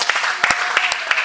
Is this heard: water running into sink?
no